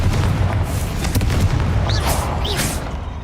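Spell explosions from the video game Hogwarts Legacy, Bombarda and Confringo blasts, rumble as a dense continuous stream of booms with sharp bursts and magical whooshes over a steady low roar.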